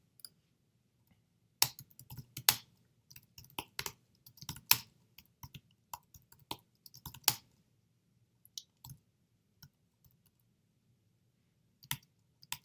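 Computer keyboard keys are typed in short, irregular bursts of crisp clicks with pauses between, close and fairly quiet against a silent room.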